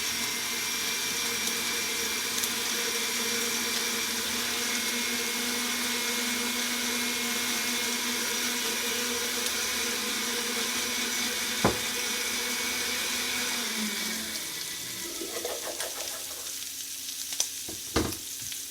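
A blender runs steadily, whirring loudly as oil is emulsified into a sauce, then spins down near the end, followed by a few knocks and clatters.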